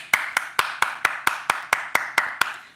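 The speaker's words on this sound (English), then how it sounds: "Hand clap for the sister." Rhythmic hand clapping at a steady, even beat, eleven crisp claps in under three seconds, close and alone with no talk over it.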